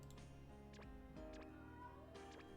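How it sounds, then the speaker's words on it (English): An indoor pet cat named Karma meows repeatedly, several loud, rising yowls in quick succession, close by against a low steady hum. "my cat's yelling."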